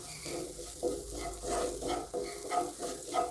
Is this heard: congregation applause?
no